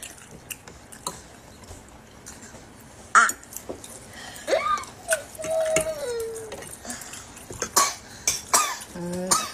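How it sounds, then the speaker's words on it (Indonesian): Several short, sharp coughs break out at irregular intervals, fairly close, with a few soft throaty sounds between them. "Dia lagi batuk"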